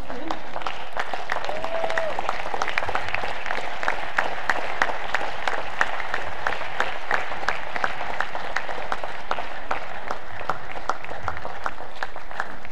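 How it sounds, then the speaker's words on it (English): Sustained applause from an audience after a speaker finishes, steady dense clapping over about thirteen seconds with faint voices underneath. "A big round of applause for Mrs. Detoun Ogwo."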